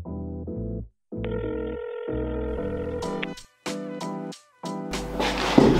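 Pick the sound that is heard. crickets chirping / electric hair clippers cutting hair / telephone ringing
telephone ringing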